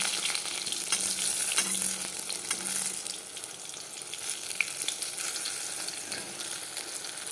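Eggplant (brinjal) slices fry in hot oil, giving a steady hiss and crackle with scattered pops that stays even and fairly close throughout, with no voices.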